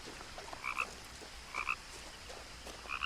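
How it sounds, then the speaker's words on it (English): A frog croaks in the video game What Remains of Edith Finch, with three clear paired croaks spaced about a second apart over a quiet ambient backdrop. "I hear a frog."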